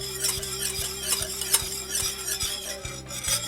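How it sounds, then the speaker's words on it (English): A whisk scrapes rhythmically around a pot of gently boiling sauce sweetened with honey, giving repeated close strokes about every half second over a steady simmering hiss. "I'm going to give it a good whisk"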